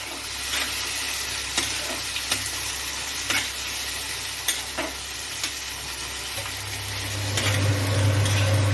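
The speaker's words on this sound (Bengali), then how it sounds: "ভালো করে নাড়িয়ে নেব।" Frying tomato in a chicken curry is stirred in a pan, with a steady sizzle and scattered spoon scrapes and clicks. A low hum swells near the end, and no one speaks.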